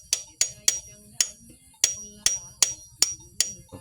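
A hammer taps a metal engine cylinder head part with about nine crisp, ringing metallic strikes at an uneven pace, close and clear with no talk.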